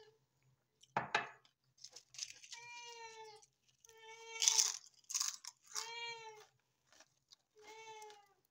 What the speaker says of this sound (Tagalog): Ang ingay ng mga pusa namin